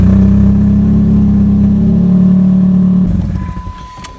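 A car engine idles loudly with a steady low drone that starts to falter and sag near the end as if about to stall, the rough running close and alone.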